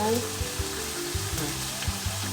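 Eringi mushrooms stir-frying in butter hiss and sizzle steadily in the pan, with soft rhythmic stirring scrapes and taps close by.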